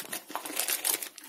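Up close, a plastic bag crinkles and rustles in quick irregular bursts as a car camera is unpacked from it. The crackling is dense and continuous, and no voices are present.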